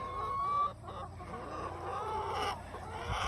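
Chickens clucking outdoors, a few hens giving soft scattered clucks and calls close by over a quiet rustling background.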